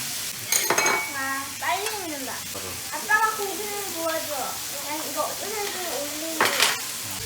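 Thin-sliced pork belly sizzles and spatters in a pan at a family meal, giving a steady frying hiss with occasional utensil clatter while several people talk over it.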